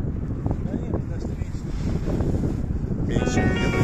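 A steady roar of wind buffets the microphone during kitesurfing on a lake. It is loud and continuous throughout, and people talk over it.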